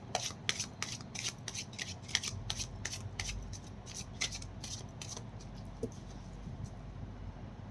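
Tarot cards being shuffled by hand: quick bursts of soft papery riffling and rubbing, fairly close, repeating for several seconds before tapering off, with no talk over it.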